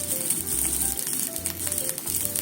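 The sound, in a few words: pan-frying food until browned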